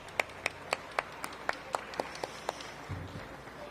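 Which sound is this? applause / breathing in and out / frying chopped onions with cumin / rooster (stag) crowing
applause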